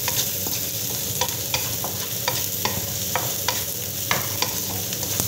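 Sliced onions with a pinch of salt sautéing in a pan for a creamy cheese penne, a steady close sizzle broken by regular scraping taps of a spatula stirring, with no voices.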